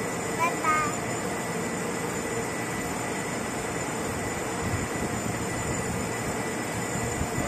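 A blue-painted local commuter train pulls away from a station as a steady, broadband rumble of wheels and motors, with a child and adult chatting over it.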